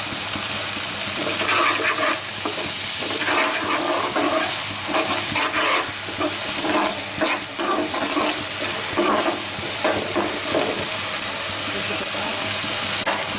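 Sauce with ketchup for honey masala chips fries and is stirred in a pan, giving a loud, steady sizzle with continual spoon scraping throughout.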